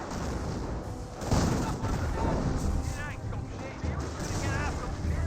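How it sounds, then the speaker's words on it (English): Mortar rounds land with dull thuds and crackling blasts in the World War II strategy game Company of Heroes, bursting repeatedly under a rough battle din while a voice talks over them. "The lieutenant does avoid that mortar shot there"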